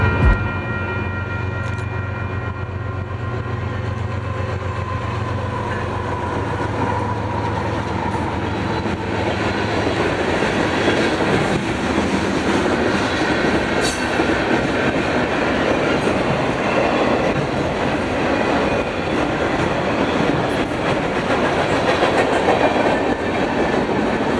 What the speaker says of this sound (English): we would see our first freight train, this being MYROG with a Gevo leading